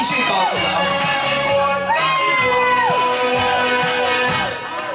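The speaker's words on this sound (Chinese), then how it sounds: "唱了吼，自动有欢呼声" Canned crowd cheering and whooping from a karaoke machine plays after a song, a loud, steady burst of cheers mixed over bright music.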